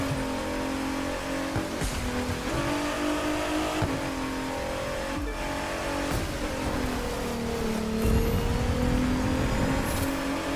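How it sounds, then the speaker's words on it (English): A hypercar's engine revs hard in the racing video game The Crew 2, a loud, continuous roar that rises and falls with gear changes and acceleration and carries no speech. "this hypercar looks freaking awesome. And it sounds so American."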